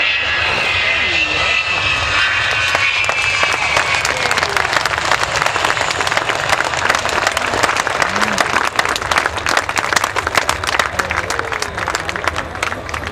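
A loud Avro Vulcan bomber's jet engines roar overhead at an air display at Waddington, building into a harsh crackling rumble, with crowd noise mixed in throughout.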